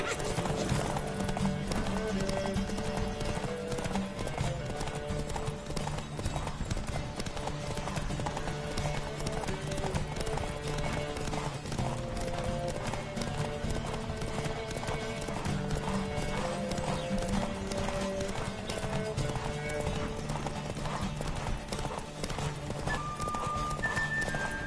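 Steady clip-clop of galloping hooves from a horse in The Witcher 3: Wild Hunt runs throughout, with the horse whinnying at times and music playing underneath.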